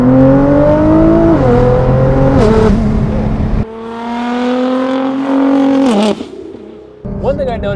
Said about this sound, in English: It does have a custom exhaust system.